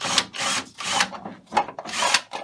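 Repeated rasping, scraping bursts of a screwdriver backing screws out of the frame of a Sole elliptical machine during incline motor installation, four or five close strokes in quick succession with no talk.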